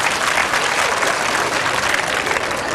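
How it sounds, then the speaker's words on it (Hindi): Steady applause from a crowd at a women's awareness meeting in India, dense and continuous clapping at a fairly loud level throughout, with no voices standing out. "सब लोग बजाओ ताली उनके लिए।"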